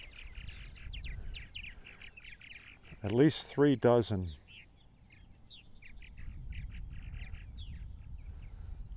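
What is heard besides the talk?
purple martins calling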